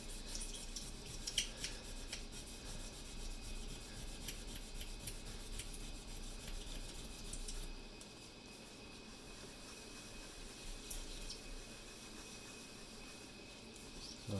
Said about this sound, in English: I'm just doing back and forth with the scrubbing brush until I get that off